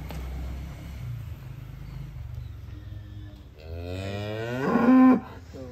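A cow being shown at a cattle contest gives a loud, drawn-out moo near the end, rising in strength before cutting off, over a low rumbling background.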